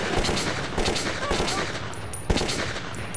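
Dense gunfire in the first-person shooter Metro 2033 forms a loud, continuous roar of rapid shots with one sharper report near the end, and a player's voice is partly buried underneath.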